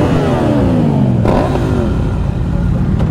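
A Triumph motorcycle with a fully de-catted, baffle-free exhaust revving hard, a loud close engine note climbing in pitch, then a sharp crack and a second rising rev that settles into a throaty idle.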